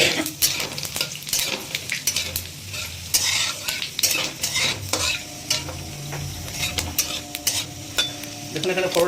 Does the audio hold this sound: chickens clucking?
no